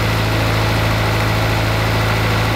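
Honda Civic engine idling steadily just after starting, a constant low hum with a steady vibration, close and fairly loud, no talking.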